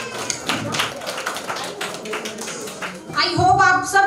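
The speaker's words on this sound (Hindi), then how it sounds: "एक बार जोरदार तालियां इन सभी प्यारे बच्चों के लिए।" An audience at a school annual function applauds children's performance in a steady wash of clapping, with a voice speaking over it near the end.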